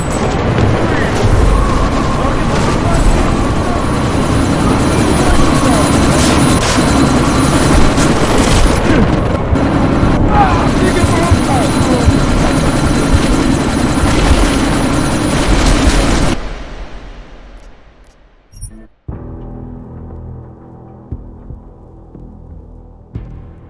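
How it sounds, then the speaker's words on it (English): Loud, close helicopter in Deus Ex: Mankind Divided during a sandstorm, its steady throbbing rotor roar holding for about sixteen seconds before cutting off abruptly into quieter rumbles. "you need to disable that chopper"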